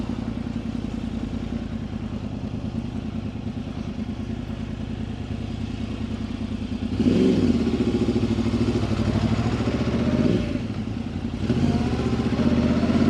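A Yamaha R1 motorcycle filters through London traffic, its engine droning steadily with surges of revving as it accelerates, close and loud over a constant background of road and wind noise.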